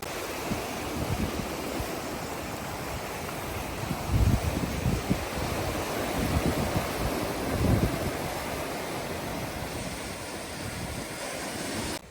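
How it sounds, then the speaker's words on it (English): Waves crash against rugged coastal cliffs at Cap d'Ail on the French Riviera, a broad continuous roar of surf with heavier surges around four and eight seconds, mixed with wind buffeting the microphone. "waves crash against the rugged cliffs below"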